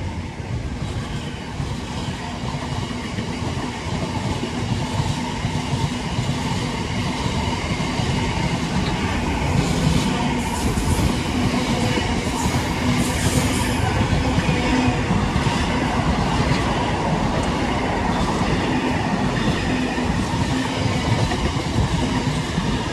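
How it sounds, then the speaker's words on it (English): A CrossCountry passenger train pulls into Stafford station, its loud steady rumble and clickety-clack of wheels filling the platform, with a faint squeal of wheels partway through. "Here comes the 10:01 cross country service to Bristol Temple Beads via Birmingham New Street from Manchester Piccadilly."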